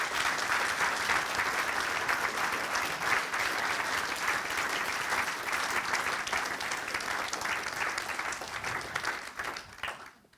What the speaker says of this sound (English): do you want to give Helen a massive round of applause for that